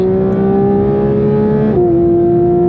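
A Porsche GT3 RS engine accelerating out of the Nürburgring Carousel, heard from inside as a loud, steady, rising engine note that drops sharply at an upshift and then keeps pulling.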